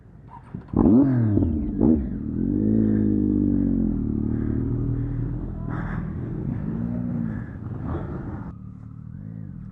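KTM dirt bike engines rev hard and bog while stuck in muddy bog holes. The revving is loud and close, rising and falling in strained surges with clattering bursts throughout, and there is no speech.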